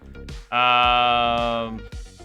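A goat in the Minecraft video game gives a long, bright, buzzing bleat lasting about a second, framed by shorter game sounds before and after.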